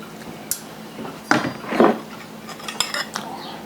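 Marinated bulgogi ribeye beef spooned into serving cups, with a few soft clinks of a metal spoon against dishware and brief scraping bursts, quiet and close.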